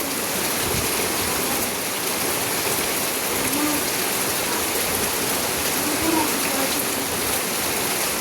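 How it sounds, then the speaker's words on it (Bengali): Heavy, steady rain pours outside a window, a dense continuous hiss with no break across the clip. "বৃষ্টি আর বৃষ্টি,"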